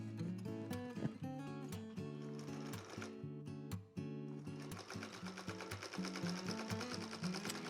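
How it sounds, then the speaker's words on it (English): A sewing machine stitching wide fabric border pieces onto improv flying geese quilt blocks, a loud close rhythmic whirring hum running almost nonstop, pausing briefly before starting again at a faster steady pace, with no talking. "And these little border pieces I'm sewing on are pretty wide."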